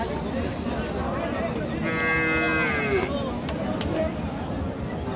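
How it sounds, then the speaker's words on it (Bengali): A cow, a dairy cow with her calf, moos once in a long drawn-out low call at a busy rural cattle market, with a constant hubbub of crowd chatter around it. "ষাঁড় বাচ্চা গাভী এটা"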